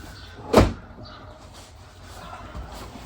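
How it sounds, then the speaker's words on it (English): An RV's interior door is shut once with a sharp, close thud, followed by quiet rustling and a faint soft knock in the background. "Just shut the door, should be okay."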